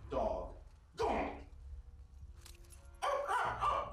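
A dog in The Last of Us Part 2 gives a few loud, close barks, alternating with a person gasping and talking over the game.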